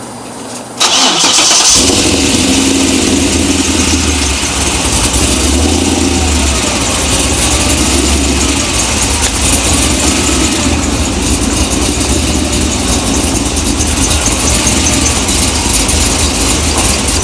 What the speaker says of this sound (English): I just wanted to show you guys the rough idle when it's cold